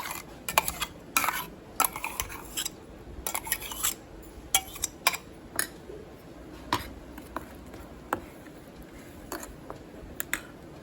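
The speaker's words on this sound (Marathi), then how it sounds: "हे मिक्सरातलं मिक्स केलेलं आहे ते दुसऱ्या भांड्यामध्ये काढायचं आहे" Ground cashew paste scraped out of a mixer jar into another pot, giving a run of sharp metallic clinks and scraping taps of a spoon against steel, irregular and fairly close, with no voices.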